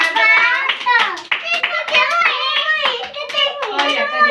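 Small children at an anganwadi clap their hands in quick, uneven claps, mixed in with loud, close children's voices chanting and talking.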